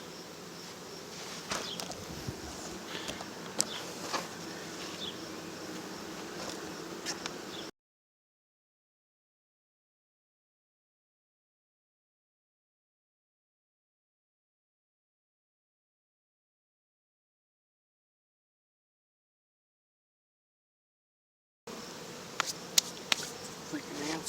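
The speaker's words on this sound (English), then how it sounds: "Need a lot more bees than that." Honeybees drone around an open cell starter hive being shaken outdoors, a soft, steady buzzing with a few brief louder passes close by, broken by a long silent gap before the hum resumes.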